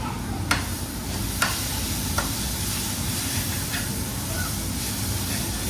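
Cumin and chili masala fry in a hot pan with a loud, even sizzle, broken by a few sharp spoon clicks against the pan and no talking.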